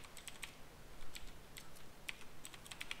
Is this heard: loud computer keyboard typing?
yes